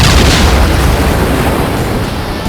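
A massive explosion blast slams into a giant robot suit, a loud, close, continuous roaring boom with heavy low rumble that stays dense for the whole stretch before easing off slightly at the end.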